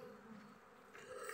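Robber bees buzz close around a beehive in a short, steady drone that rises slightly at the end, with no talking.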